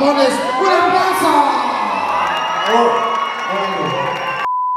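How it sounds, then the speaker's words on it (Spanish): A crowd cheers, whoops and shouts loudly and continuously at a launch event for the second season of a comedy show, with some applause mixed in before the sound cuts off abruptly. "¡Un aplauso!"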